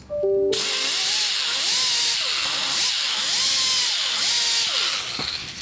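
A power tool with a Scotch-Brite pad scrubs the cylinder head of an old Craftsman 10hp Tecumseh riding lawnmower engine. Close and loud, the motor whirs with repeated rising-and-falling surges as the pad is pressed and eased in rhythmic passes.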